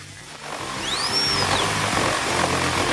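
Cartoon power drill whirring loudly, a rising and falling electric whine with a sweeping tone that peaks midway, heard alone without speech.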